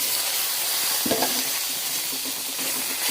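Pointed gourd goes into hot oil with green chili and ginger in a pan, producing a steady loud sizzle with a brief stirring clatter, close up and without speech.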